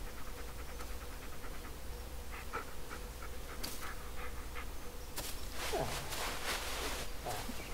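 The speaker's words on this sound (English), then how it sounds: "What are you doing, dog?" In the Blair Witch video game, a dog pants in quick, steady bursts at close range against a low forest ambience, with a few brief sharper noises and no one speaking.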